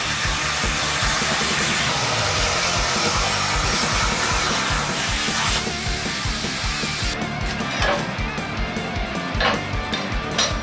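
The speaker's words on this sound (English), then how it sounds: "cut it out in the CNC" A CNC machine cuts out boomerang shackle parts for a Cherokee XJ, a loud continuous whirring and grinding drone that shifts pitch partway through, with the cutting noise thinning and changing texture near the end.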